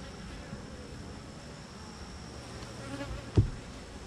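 Honeybees around an open hive during a July brood-frame inspection make a steady, low buzzing drone, with one soft bump near the end and no talking.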